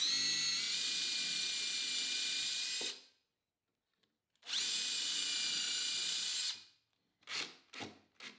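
A power drill drives screws into the wooden frame of a nesting table, two long steady whirring runs separated by silence, then a few short trigger bursts, close and loud with no talk.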